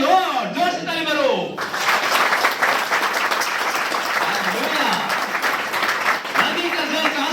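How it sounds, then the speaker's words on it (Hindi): A church congregation claps loudly and continuously for several seconds after a preacher's voice, steady applause filling the room with occasional speech faintly underneath. "जोर से ताली मारो।"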